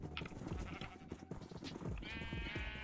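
Sheep bleat in the Minecraft video game, several overlapping calls from a crowded flock, close and fairly loud, continuing without pause with no talking.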